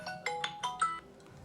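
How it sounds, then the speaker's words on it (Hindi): A phone ringtone sounds for an incoming call, a quick run of bright electronic tones in several short pulses, fairly close and clear with nothing else over it. "ये लो, तुम्हारी शोभा का ही फोन आ गया, लाडली का।"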